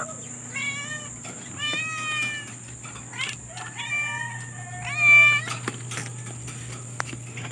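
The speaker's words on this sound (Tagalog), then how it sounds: "Hindi sa akin tong pusang to," A cat meows repeatedly, a series of clear, drawn-out cries close by, spaced over several seconds against a steady low hum.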